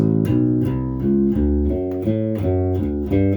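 A bass guitar walks through steady quarter-note lines, each note sustained and evenly spaced, played alone with clean low tones.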